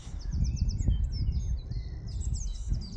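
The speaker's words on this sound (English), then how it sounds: "I've got a buzzard here being mobbed by a carrion crow." Harsh bird calls repeat over steady low wind rumble outdoors by a river, a carrion crow's caws mixing with the thinner high cries of a buzzard it is mobbing.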